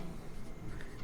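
Chalk or a marker scratches on a board during a Hindi-language chemistry lesson, a brief patch of soft, uneven scraping strokes against a steady room background.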